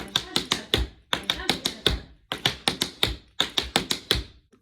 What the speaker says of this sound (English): So doing flap shuffle leap